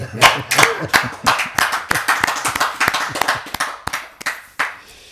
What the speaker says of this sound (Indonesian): Tepuk tangan buat Profesor Kiai Haji Muhammad Menahem Ali